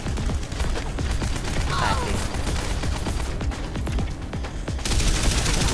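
Heavy gunfire in the PC shooter Terminator Salvation, with loud, rapid bursts that keep coming over a dense, noisy game mix, and some in-game sounds layered in.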